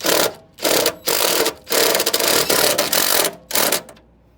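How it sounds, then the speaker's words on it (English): A power driver with a 3/8 socket spins a self-tapping bolt into a Jeep Wrangler JK inner fender liner. Loud, close mechanical whirring comes in several short bursts, then stops. "I'm gonna push this with one hand and put the self-tapper in with the other"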